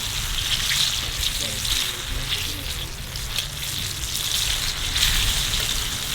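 Strips of freshly caught pike frying in hot oil over an open fire at a lakeshore, a dense, steady crackling sizzle throughout with a low rumble beneath.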